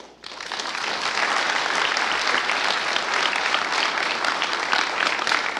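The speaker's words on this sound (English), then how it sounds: "They deserve a round of applause." A church congregation at Light in the Valley Chapel gives mission trip helpers a round of applause, dense and even clapping that rises quickly and holds steady for several seconds.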